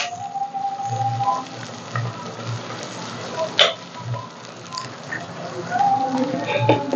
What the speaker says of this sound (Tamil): கொஞ்சமாக உப்பு சேர்த்து வதக்கும் அப்போ தான் சீக்கிரமாக வதங்கும் வந்து வெங்காயம் வதங்கட்டும்